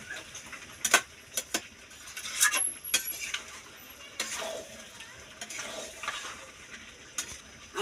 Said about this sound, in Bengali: আমার মশলা কষানো মাংসটা কষা হয়ে গেছে